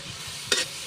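Vegetables being stir-fried in a pan with a little black pepper, a quiet low sizzle broken by one brief sharp scrape or toss of the spatula midway.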